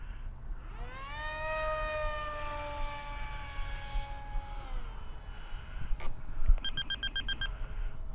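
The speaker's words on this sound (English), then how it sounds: "she's got quite a bit of power with that 7-inch prop" Electric motor and 7-inch propeller of an FF-35V2 RC model airplane spinning up to a high whining pitch, holding, then winding down as the plane flies off, followed by a few faint beeps outdoors.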